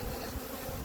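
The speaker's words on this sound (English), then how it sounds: "the bees are chaining" Honey bees buzz steadily inside a nucleus hive with a super of foundation, a dense, continuous close-up hum lasting under a second with no voices.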